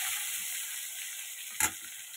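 Green plantain pieces frying in oil, a quiet continuous sizzle with one brief louder clatter near the end, no talking.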